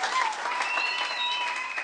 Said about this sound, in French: Nous pouvons encore acclamer les seigneurs.